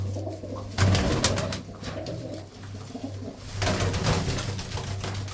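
Pigeons coo steadily in a loft, a low throbbing call repeating close by over a busy background of rustling and wingbeats, with no talk.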